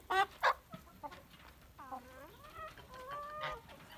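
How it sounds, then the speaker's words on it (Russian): Honking, cackling calls from several geese, a couple of sharp bursts followed by drawn-out, wavering cries at moderate distance. "Гуси."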